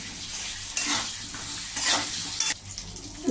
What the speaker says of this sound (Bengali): দিয়ে আমি নেড়ে করে বেগুনগুলো লাল করে দিলাম